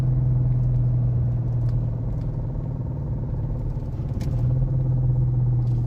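Continuous low droning hum from a Dodge Charger R/T drivetrain with a failing transmission, with a steady whine and faint rattles underneath, heard from inside the vehicle.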